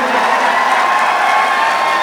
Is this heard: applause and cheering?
yes